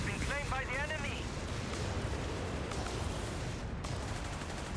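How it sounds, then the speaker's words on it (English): Stuka dive bomber attack in Company of Heroes 3, with a dense, loud barrage of explosions and gunfire filling the scene, a descending whine early on, and a commentator talking excitedly over it. "Oh, Stuka's targeting the base!"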